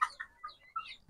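Desi chickens kept in a closed pen give a short burst of several quick, close clucks and squawks, followed by a soft low thump.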